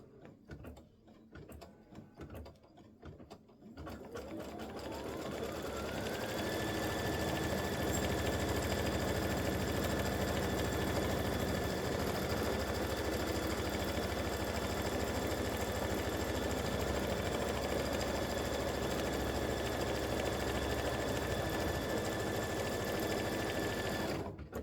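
An embroidery machine stitches a mug rug design, starting up after a few seconds of handling noise, then running in a steady, loud, continuous whir with a sustained motor whine and fast needle chatter.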